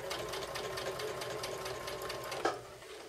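Sewing machine running steadily as quilt pieces for a flying geese block are chain-stitched, a fast even whir close up, ending in a short clunk before it eases off.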